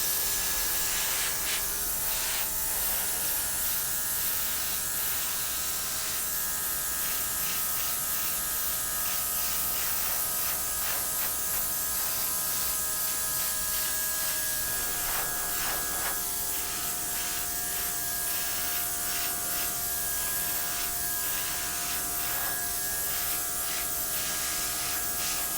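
A small airbrush blows paint outward across the edges of a Dutch pour acrylic painting, giving a steady, continuous hiss with faint tonal hum and light rubbing texture throughout, close and alone with no talking.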